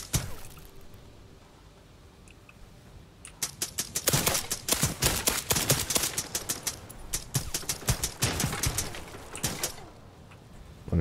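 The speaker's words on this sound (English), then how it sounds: "Under heavy fire here." Gunfire in the video game Black One Blood Brothers: a dense run of sharp, rapid shots starts after a quiet stretch and continues in bursts, fairly close and loud.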